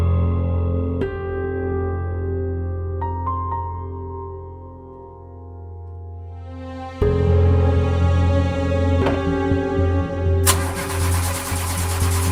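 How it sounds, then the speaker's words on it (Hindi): A car engine cranks over and over without catching, a steady grinding whir that drops, then resumes louder and rougher, ending in a harsh noisy burst near the end. "गाड़ी स्टार्ट नहीं हो रही"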